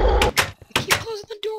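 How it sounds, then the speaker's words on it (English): A door in Minecraft on the Hypixel VampireZ server closes several times in quick succession, loud, close wooden clunks. "You keep closing the door on me."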